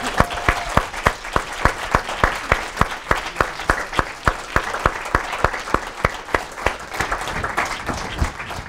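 An audience at a live lecture and discussion event bursts into sustained applause, dense rhythmic clapping from a roomful of people that continues steadily throughout with no speech over it.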